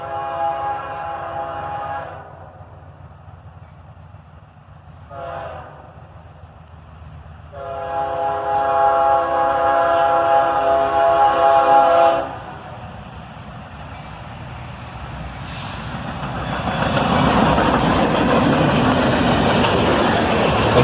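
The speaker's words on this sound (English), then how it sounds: "before a southbound train was finally coming." A CSX southbound manifest train led by ES44DC and ES40DC locomotives, with tank cars at the front, sounds its horn in several loud blasts, then rumbles and roars closer as it passes.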